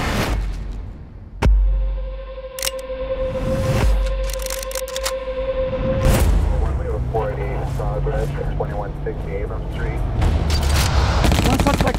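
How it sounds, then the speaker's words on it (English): Bursts of automatic-weapon gunfire and heavy booms fill an action movie trailer for 211, set in a bank robbery shootout. Shouting voices and dramatic score sit underneath. "Shots fired! Shots fired!"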